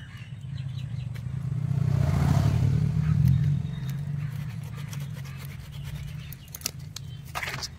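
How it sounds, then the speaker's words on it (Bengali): Pieces of catfish are rubbed and scrubbed clean by hand to whiten them, giving rough scraping and rubbing noises over a steady low hum, with a few sharp clicks and clatters toward the end. "এবারে ঘষে নিতে হবে, সাদা করে নিতে হবে।"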